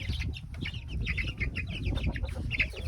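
Chickens on a farm where Aseel and Rhode Island Red birds are kept, several hens clucking in short repeated bursts close by, with light rustling and flapping underneath.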